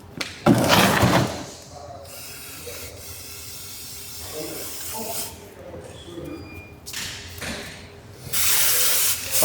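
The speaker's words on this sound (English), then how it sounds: "If I use the brake cleaner here, it will make a dry." Brake cleaner hisses from an aerosol can onto a Golf R's new big brakes in two strong bursts, one at the start and one at the end, with quieter workshop sounds and a speaking voice in between.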